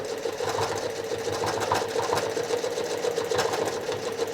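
A sewing machine travel stitches across a quilt, running in a steady, fast, close mechanical whir with a regular stitching rhythm throughout.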